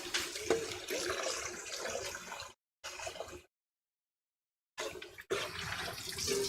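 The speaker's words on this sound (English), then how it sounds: "keep me off camera for just a second here while I rinse off this bowl" Running tap water splashing while a bowl is rinsed in a kitchen sink, a steady hiss broken by two short silent gaps, near and fairly quiet.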